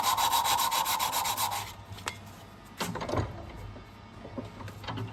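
Sandpaper is rubbed briskly in steady strokes over a wooden hoe handle, close and clear, then pauses and gives way to a few quieter scrapes and handling knocks.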